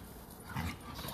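Dogs at a rescue house whimper and pant faintly in a short, quiet burst, with soft yard ambience around them.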